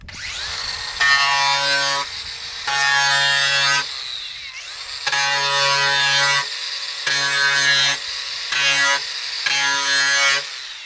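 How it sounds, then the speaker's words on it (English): A power tool grinds names into metal in loud, close, high-pitched whining bursts, about six of them separated by short pauses. "Let's just grind the uh, grind our names in there, eh?"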